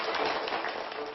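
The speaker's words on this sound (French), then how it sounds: "Je crois qu'on peut les applaudir." A crowd applauds schoolgirls with a dense, steady patter of many hands clapping, moderately loud and continuous through the brief moment.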